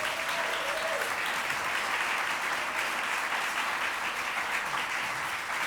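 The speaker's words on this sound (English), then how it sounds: "Can we give her one more round of applause?" An audience applauds steadily after Gloria Cheng's piano recital in a members' lounge, with dense, even clapping that stays loud and continuous throughout.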